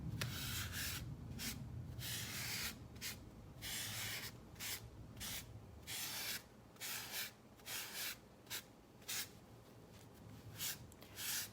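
Glaze is wiped off a Dollar Tree pumpkin decorated with decoupage, a soft, close rubbing sound that comes in repeated short strokes separated by quiet gaps, growing choppier toward the end.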